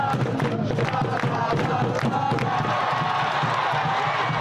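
Rugby fans in a Toronto Wolfpack crowd cheer and shout together in a steady, dense roar, with occasional thumps, loud and continuous throughout.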